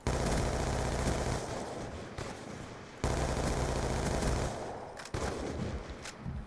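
Gunfire from Black Ops 2 played on PC in a free-for-all match: dense, loud rapid automatic fire runs almost continuously, with brief dips near two, three and five seconds.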